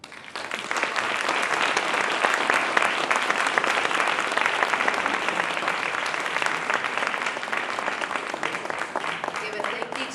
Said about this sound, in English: an extra round of applause